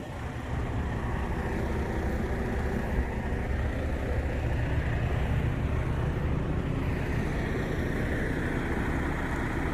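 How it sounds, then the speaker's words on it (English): A semi truck with a Detroit DD15 diesel engine runs steadily nearby, a deep continuous rumble holding the same level throughout with no one talking. "This is a DD15 engine."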